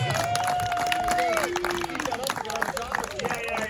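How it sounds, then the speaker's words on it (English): Crowd at a groundbreaking ceremony for Dustin's Adventureland in Minersville applauding the kids, a burst of clapping with lively chatter and children's voices mixed in throughout. "Let's give these kids a round of applause for coming up and helping us"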